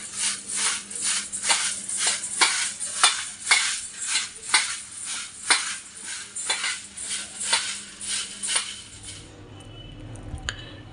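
Puffed rice (muri) being mixed with oil in a metal bowl, rhythmic scraping and clinking strokes repeating steadily for about nine seconds, then stopping.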